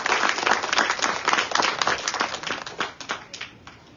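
An audience at a groundbreaking ceremony applauds Gary, with a loud, dense burst of clapping from a crowd that holds strong and then gradually thins toward the end.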